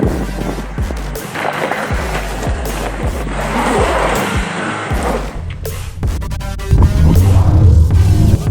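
A Nissan X-Trail T32 1.6 diesel 4x4 on General Grabber AT3 tires drives off-road, its engine droning under repeated rhythmic thumps and knocks from the tires over rough ground, growing louder near the end.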